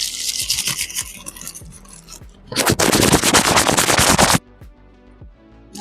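Fingers tapping and scratching directly on a Velomax microphone, close and loud: rhythmic knocks, then a dense rasping scratch burst lasting nearly two seconds, then sparse soft taps.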